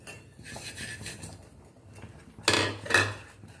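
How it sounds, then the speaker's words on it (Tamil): Spoon scraping and clinking in a pot as semolina is stirred into coconut milk, quiet at first, then two louder metallic knocks near the end. "கொஞ்சம் கொஞ்சமாக போட்டு கிண்டிக்கிட்டே இருக்கணும்."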